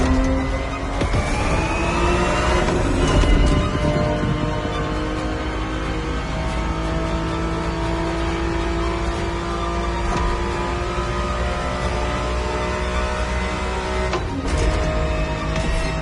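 Ferrari 365 GTB4, a 1970s Ferrari in The Crew Motorfest, accelerating with a loud steady engine note that rises through a couple of gear changes, close and continuous with no talk.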